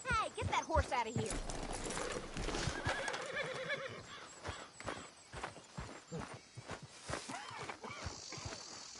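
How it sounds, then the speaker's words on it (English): A horse whinnies loudly near the start, with hooves clip-clopping and other game-like sound effects, and voices talking throughout. "Hey, get that horse out of here."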